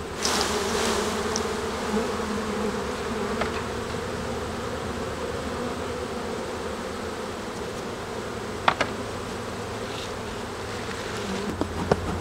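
Honey bees buzzing steadily around beehives being condensed for winter, a dense continuous drone close by with a few sharp clicks and knocks near the end.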